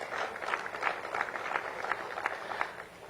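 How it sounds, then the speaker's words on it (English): Audience applause at the Uganda–South Africa Trade and Investment Summit 2023, heard as a faint, distant wash of many hands clapping steadily for about three seconds before it begins to fade. "Let's give an applause to DTIC."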